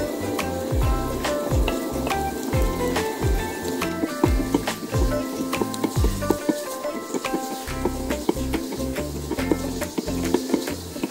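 Chopped onions hit a hot pan and sizzle in a steady, close crackling hiss that runs the whole time, with occasional stirring and a soft musical bed beneath.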